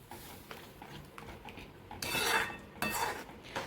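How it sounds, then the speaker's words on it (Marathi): A metal spoon stirs dal into fenugreek greens in a cooking pot, starting with soft scraping and then turning into louder clanking and scraping strokes against the pot near the end, close up with no talking. "आता आपण ती छान मिक्स करून घेणार आहोत"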